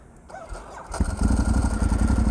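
A Ducati 1098 superbike in stock, pristine condition cranks briefly and then roars to life close by, settling into a loud, lumpy, pulsing idle.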